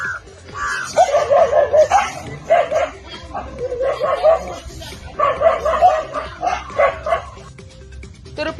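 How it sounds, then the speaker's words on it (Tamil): A pack of dogs barks and yelps continuously at a lone elephant with long tusks in a village setting, many overlapping barks loud and close over several seconds. "நீண்ட தந்தத்துடன் உலா வந்த ஒற்றை யானையை கண்ட நாய்கள் சுற்றி வளைத்து குறைத்தன"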